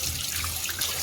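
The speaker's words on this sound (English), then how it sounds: "We're filling up the water as we're going to be washing our breadfruit" Tap water running steadily into a sink or basin to wash breadfruit in a home kitchen, a close, continuous splashing rush with no voices.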